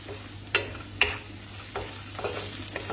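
Chopped onion cooks slowly over low heat in a pan as a low, soft sizzle, broken by a few sharp spatula scrapes and taps against the pan.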